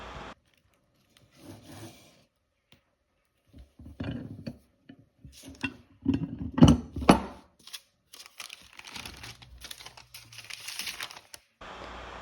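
Sourdough flour tortilla dough squeezed flat in a tortilla press, with soft intermittent rubbing, creaking and pressing sounds in short bursts, building to a louder cluster midway, close and quiet with no talking.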